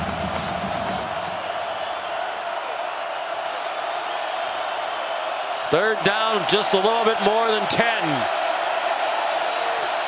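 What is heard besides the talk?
football stadium crowd cheering at West Virginia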